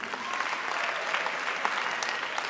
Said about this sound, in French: Et je pense que cela s'applaudit.